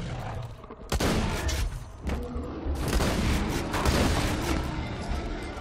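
A shotgun fires in Borderlands 2, a heavy blast followed by rapid rumbling bursts and booms of combat, loud and continuous with explosive crackle throughout.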